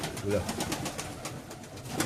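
Soft, low coos from stressed male pigeons sound close by amid faint rustling and shuffling, a few brief calls over a quiet indoor background.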